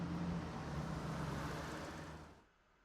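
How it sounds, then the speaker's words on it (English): A car engine drones steadily as it heads deep into the mountains toward Hinamizawa, a constant low rumble that fades away near the end, with no talk. "From there, we take a car deep into the mountains."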